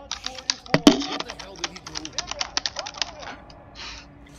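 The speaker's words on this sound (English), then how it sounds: "I can imagine the other keyboard sound they hear." Computer keyboard typing in a game stream, a quick run of crisp key clicks with one louder clack near the start, set under low background voice and game sound.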